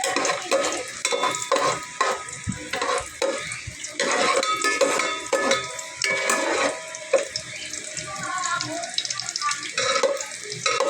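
Garlic fries in oil for native chicken, a close crackling sizzle broken by scraping stirs and clattering utensil knocks, with no talk.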